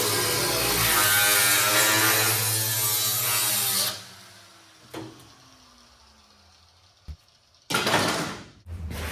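An abrasive cutoff wheel grinds loudly through the steel pillars of a pickup truck bed during a service truck build, a steady harsh whine for about four seconds, then stopping, with a few brief clanks and a short final burst.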